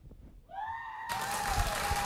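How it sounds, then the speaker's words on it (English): Studio audience applause and cheering at a comedy sports show, a short burst of broadband clapping noise that swells in partway through, with a sustained whistle-like tone and whooping over it. "That's the applause I like to hear."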